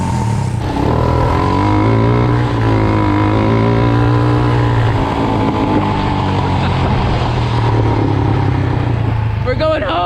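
A Power Wheels Ford F200 ride-on with an engine fitted runs steadily, a loud continuous motor drone with slight pitch shifts, close by and under occasional talk.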